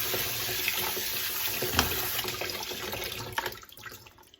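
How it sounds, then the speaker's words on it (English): Tap water runs into a sink, rinsing fresh black beans, with a steady close splashing flow and a few clunks and bumps before it tapers off at the end. "So, rinse them off."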